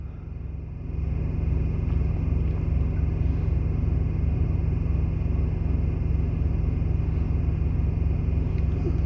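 Truck engine idling and rumbling steadily while backing a trailer into a spot, a loud, close low drone that swells up after the first second and then holds constant, with no talk.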